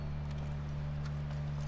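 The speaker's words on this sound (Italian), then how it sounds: "Scusa se ho rubato il tuo cavallo." Horse hooves clip-clopping in The Last of Us, a steady quiet rhythm over a constant low droning hum, with no voices.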